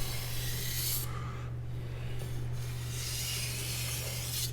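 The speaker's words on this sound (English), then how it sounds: "the blade is going into the stone" Steel of a Chinese cleaver rasps rhythmically across a wet whetstone, long gritty strokes close and clear, each separated by brief pauses, with a steady low hum underneath.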